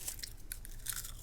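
Crunchy snack chips are chewed close to the microphone, with several quick sharp crunches over a second, quiet and intimate.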